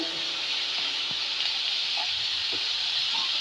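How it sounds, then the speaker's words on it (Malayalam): Onion and cabbage sauté in oil, giving a continuous soft hiss and sizzle with a few faint clicks of stirring and no talk. "നമ്മുടെ ഉള്ളിയും ഇതാ കേബേജ് നല്ലോണം ഇതാ വഴന്ന് വന്നിട്ടുണ്ട്"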